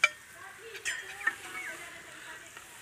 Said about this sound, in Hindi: उनको भी फ्राई करें, एक एक करके नीचे गिराते जाएं जैसे पकौड़े डालते हैं